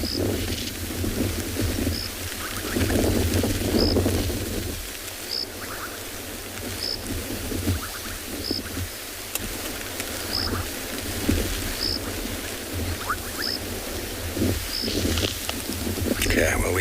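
Steady rain falls during an afternoon safari drive in South Africa, with low thunder rumbling underneath and faint bird calls; people talk at times over the continuous downpour.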